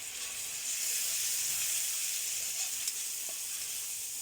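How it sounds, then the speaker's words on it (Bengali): Turmeric powder and ground spices frying in a pan, giving a soft, even sizzle with an airy hiss and a couple of faint clicks, heard alone and fairly quiet. "আমি মশলাটা আগে ভেজে নিই। তো একটু হলুদের গুঁড়ো দিয়ে দিলাম।"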